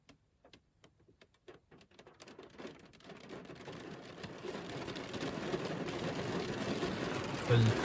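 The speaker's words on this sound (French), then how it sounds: "Ça y est, il pleut." Scattered drops tick at first, then rain builds into a steady, dense patter and hiss that grows louder and continues to the end.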